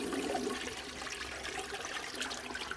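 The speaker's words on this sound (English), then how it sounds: "So now if I flush the toilet tank, most of the water will leave the tank and go out through the bowl." A toilet flushing as water rushes out of the tank and through the bowl, a continuous gushing, gurgling wash, faint and close, with no one speaking.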